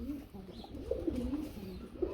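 Silver pigeons coo softly in a loft, their low, rolling calls repeating close by in an irregular rhythm over a quiet background.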